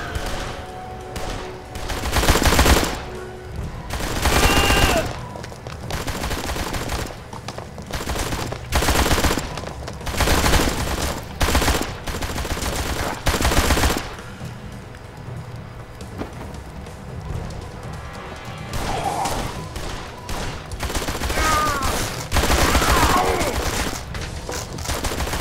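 Gunfire in the video game Blues and Bullets, bursts of loud shots repeating in rapid clusters with short pauses between, a game soundtrack and ambience running underneath throughout.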